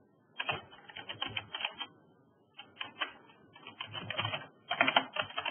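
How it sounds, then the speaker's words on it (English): Fingers type on a computer keyboard in three bursts of rapid key clicks separated by short pauses, close and fairly clear. "and we're gonna type in maximum."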